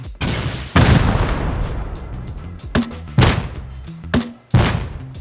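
Gunfire and heavy explosive blasts in the Rust console survival game, with several loud booming impacts separated by short gaps and one long rumbling burst near the start, no talk.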